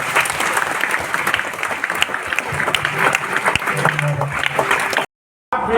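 A youth seminar audience at a parish claps loudly and continuously, a thick crowd applause with scattered cheers, which cuts off abruptly near the end before briefly resuming.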